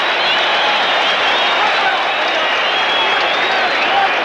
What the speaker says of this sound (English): The crowd here at Madison Square Garden likes it.